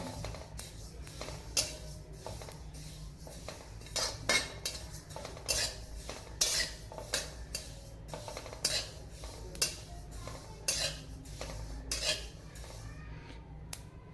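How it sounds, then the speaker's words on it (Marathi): Sesame seeds roast in a pan over a low flame, a repeated scraping and clinking of a metal spoon against the pan over a soft sizzling bed with faint crackles, close but fairly quiet, with no voices. "तेही मस्त असे चटचट उडेपर्यंत ते भाजून घ्यायचे। तेही लो फ्लेमवरच भाजायचे आहे, खरपूस असे।"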